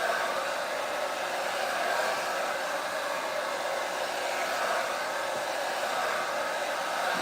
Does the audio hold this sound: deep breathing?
no